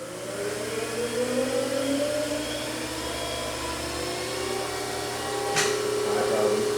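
A 2006 Haas VF2SS vertical machining center runs its spindle up through its speed range, a steady mechanical whir with rising tonal whine, loud and continuous, with a brief sharp click near the end.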